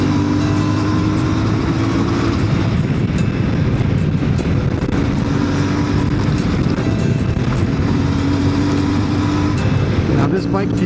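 A motorcycle rides along the road, with a steady engine drone and heavy wind rush that stay constant and loud throughout. A faint tonal hum rises and falls as the motorcycle moves.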